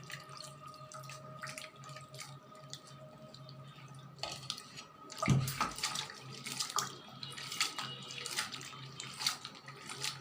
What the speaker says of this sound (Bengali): 2 বার ধুয়ে নিলাম, আরেকবার ধুয়ে নেব পরিষ্কার পানি দিয়ে।